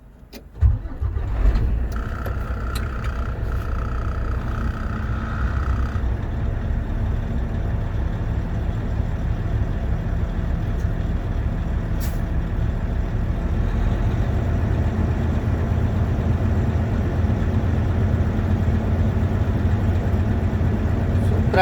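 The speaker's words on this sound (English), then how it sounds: "Now I have to again start the truck and make the pressure more than 90." A Class 1 truck's engine cranks and catches, then settles into a steady low idle while building air brake pressure, close and continuous, with a brief high whine early on.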